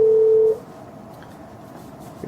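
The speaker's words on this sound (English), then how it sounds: "So here we'll see an incoming call landing on the minister's phone." An incoming call rings on a Cisco IP phone as one steady electronic tone lasting about half a second, followed by near silence with faint room noise.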